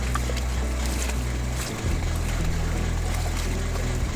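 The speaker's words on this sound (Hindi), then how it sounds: "पानी पर चलती बोट की आवाज कभी कभी एक अलग ही म्यूजिक की तरह लगती है।" Boat motoring across water in the Sundarbans, a steady low engine drone with a shift in pitch midway and continuous water wash, moderately loud with no talking.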